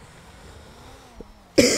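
A single sharp cough bursts out near the end after a quiet stretch, close and loud.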